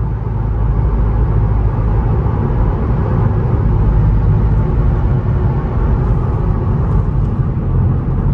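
Volkswagen Golf VII GTI Performance Phase 2 with 245 hp, engine and exhaust droning steadily while driving, a loud continuous low rumble with road noise and no talk.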